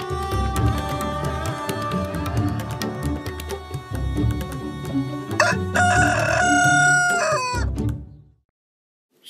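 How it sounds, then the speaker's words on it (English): A rooster crows loudly and close, a long harmonic call near the end of a busy, dense background, followed by sudden silence. "Rooster."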